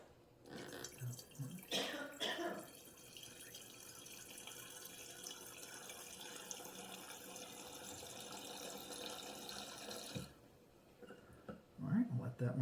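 Black Box red boxed wine runs from its spout in a long steady pour, with a few clinks and handling sounds at the start and the end and quiet talk nearby.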